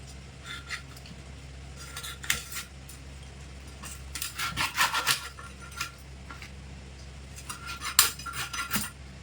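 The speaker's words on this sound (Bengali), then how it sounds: "এবার ছোট ছোট করে কেটে নেব যাতে ভাজতে সুবিধা হয়" Rohu fish head being chopped into small pieces, bursts of rough scraping and crunching cuts against a board, close and moderately loud, coming in uneven clusters with quiet gaps between them.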